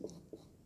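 A pen writing on paper for a moment: two short soft scratching strokes, close and quiet, with no voice.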